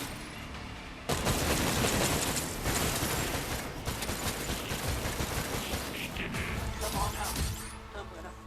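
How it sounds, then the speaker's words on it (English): Rapid gunfire bursts in an Oculus Quest VR video game, a dense sustained volley starting abruptly and rattling on with brief pauses, loud and close, with mechanical clicks mixed in. "I hear gunfire."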